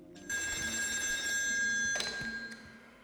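An old telephone bell rings in the video game Still Wakes the Deep, set on a North Sea oil rig, with a sustained metallic trill and a sharper clang near the end, heard alone with no talk.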